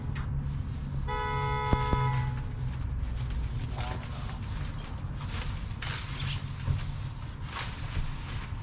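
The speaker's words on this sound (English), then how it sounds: "So much honking going on." Car horns toot over steady street traffic noise, with a longer honk early on and a few scattered beeps afterward.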